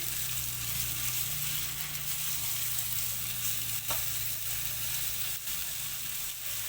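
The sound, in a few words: eggs frying in a pan for fried rice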